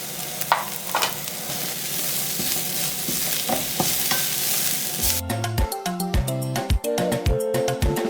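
Cumin seeds (jeera) frying in butter give a steady close sizzle with scraping stirs for about five seconds, then background music takes over.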